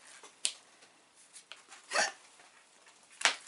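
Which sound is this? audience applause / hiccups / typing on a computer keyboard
hiccups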